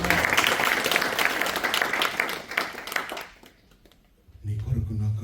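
Applause from a church congregation, steady broadband clapping filling the room for about three seconds before fading to near quiet, then low murmuring and movement returning at the end.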